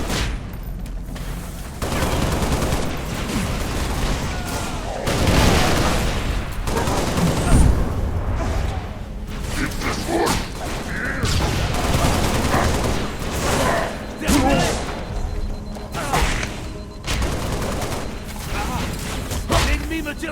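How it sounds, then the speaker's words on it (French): Bursts of enemy gunfire in the Halo Reach video game, loud rapid fusillades of automatic shots repeating throughout over a dense battle soundscape, with voices speaking French at times. "L'ennemi me tire dessus."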